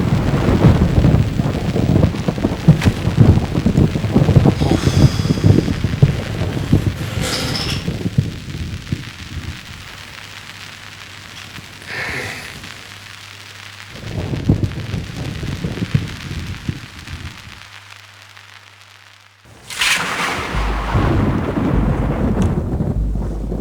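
Heavy rain pours steadily through a thunderstorm while deep thunder rumbles and rolls, loud and close. The downpour swells and eases in waves, then crashes back in at full strength.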